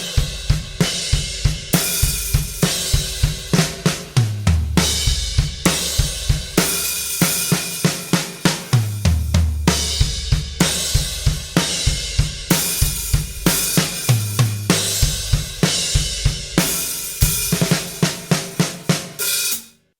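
A drum kit groove played nice and slow: steady kick, snare and hi-hat hits in a repeating pattern with deep low thumps recurring, loud and close, alone without talk.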